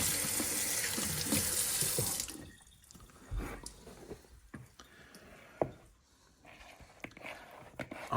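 Kitchen tap water runs loudly into a sink for about two seconds to wet a hand while making sourdough bread, then stops, leaving soft drips, squishy handling noises and quiet clatter.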